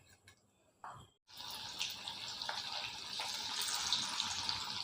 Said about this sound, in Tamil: இப்போ இதில் சிக்கனை போட்டுக்கிடுவோம்